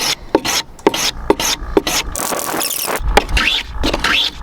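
A hand plane shaves the back edge of a pine board in short, rhythmic strokes, close by, with a few scraping bursts in between.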